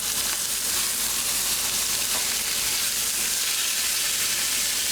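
Pork chops fry in a pan over medium heat, giving a steady, even sizzle and hiss with faint spits and crackles and no voices.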